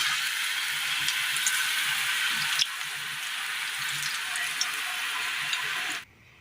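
Pakoda batter fries in hot oil with a steady, even sizzle and small pops, close by and without talk, cutting off abruptly at the end.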